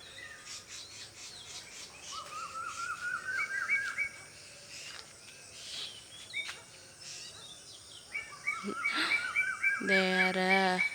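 A night bird calls repeatedly in a series of rising, chirping notes, moderately near, over a faint bed of insects and crickets, with other bird chirps joining toward the end.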